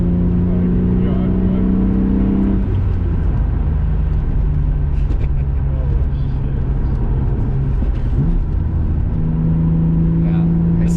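A BMW M3 engine pulls steadily on an open road, a loud continuous drone with shifting pitch heard from inside the car, while people talk over it.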